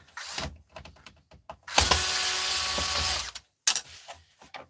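A power tool backing screws out of an old computer monitor, with short whirring bursts and then one longer steady buzzing run of the motor, heard up close with pauses and small handling noises in between.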